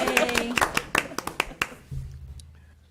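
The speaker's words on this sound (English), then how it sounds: "That's worth an applause" A handful of people clap briefly at a board of trustees meeting, a sparse, uneven burst of distinct claps that fades out within about two seconds.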